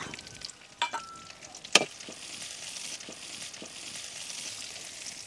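Crushed garlic and halved dried red chillies fry in hot oil, giving a steady, soft sizzle with a few sharp clicks and stirring knocks near the start.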